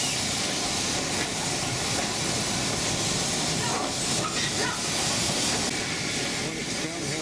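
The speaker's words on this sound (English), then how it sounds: "Train runs right past the shop." Darjeeling Himalayan Railway steam train on the Siliguri–Darjeeling hill line, coasting downhill past a roadside shop: a steady, loud hiss and rumble of steam and rolling wagons fills the whole stretch.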